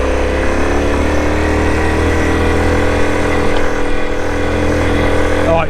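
Honda CT110 Trail motorcycle engine running steadily while off-roading, a constant loud mid-pitched drone with a faint rise in pitch near the end.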